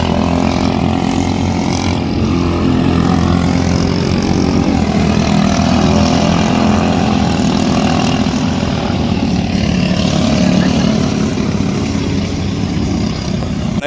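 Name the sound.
race motor running without power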